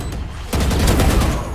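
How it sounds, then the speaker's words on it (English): A shotgun in Valorant fires in a sharp, loud burst, followed by dense rattling gunfire that continues close up for the rest of the moment. "Shotgun."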